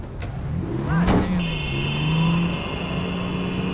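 A car engine in the online game APB Reloaded revs up and then settles into a steady mid-pitched drone, with a whooshing burst near the start and a thin high tone joining later, heard alone without talk.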